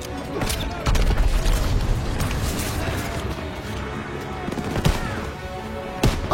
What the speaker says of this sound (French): Oh, je tire à travers le mur